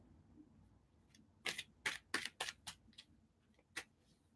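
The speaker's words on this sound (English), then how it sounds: "let me now shuffle the tarot cards" Tarot cards being shuffled by hand, a run of crisp papery riffles and slaps arriving in quick uneven bursts, close and fairly quiet over a faint room hiss.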